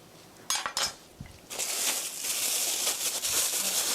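A knife cutting vegetables into thin strips for mushroom japchae on a cutting board, a few sharp taps and clinks at first, then a steady close run of rapid chopping and scraping.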